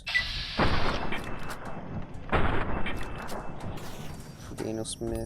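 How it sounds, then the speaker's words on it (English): Gunfire in Fallout New Vegas played on a phone: two heavy booming shots about two seconds apart, each with a long decaying rumble, followed by faint game effects. "Daniel Smith takes his first shots that weren't aimed at inanimate objects"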